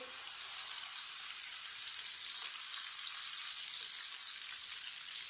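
Potato sticks fry in hot oil in a kadhai, a steady close hissing sizzle that holds evenly throughout, with no voices over it.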